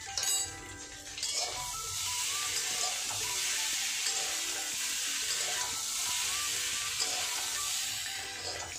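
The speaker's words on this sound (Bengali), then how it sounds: "এই আলু মশলাটা কি সুন্দর ভাজা ভাজা হয়ে গেছে।" Spiced potatoes fry in a pan for jeera aloo, a steady close sizzle with occasional light clinks of stirring running throughout, no voices.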